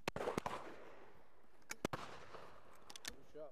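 Shotgun blasts at a red-legged partridge shoot in Spain: several sharp, loud reports spaced irregularly across a few seconds, with echoing tails and no talk.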